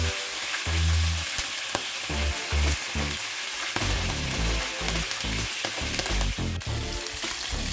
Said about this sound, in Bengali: একটা কড়াইতে বড় 1 চামচ তেল গরম করে নুন হলুদ মাখা মাছ দুটো দিয়ে দেব ভাজার জন্য।